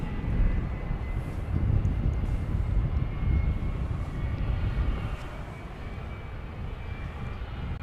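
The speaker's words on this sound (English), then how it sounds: "We've got American 1406 going to San Antonio. It's an Airbus A321." An American Airlines Airbus A321 departs DFW Airport, heard from a distance as a broad, steady engine roar that rumbles for several seconds and slowly fades.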